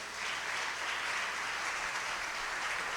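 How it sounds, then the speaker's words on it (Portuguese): Applause from a church congregation during an online worship service, a steady, dense wash of clapping that holds at an even level for the whole stretch with no voices over it. "aplauda esse Deus"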